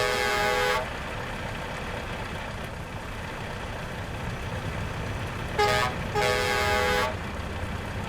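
A trucking video game truck horn blasts once for nearly a second, falls silent under a low engine rumble, then sounds again in two close honks near the end.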